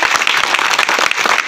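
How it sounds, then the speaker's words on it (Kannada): A crowd at a job card and mask distribution event for labourers claps loudly, producing a dense, steady wash of applause that fills the whole short stretch without pause. "ಒಂದ್ಸಲ ಇನ್ನೊಂದ್ಸಲ ಜೋರಾಗಿ ಚಪ್ಪಾಳೆ"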